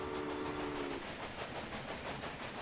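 Train departing in the railway strategy game Railway Empire, a low steady rumble with rhythmic clacking and hiss, a brief whistle-like tone fading out in the first second.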